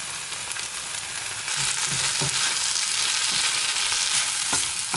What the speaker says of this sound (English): Carry on frying.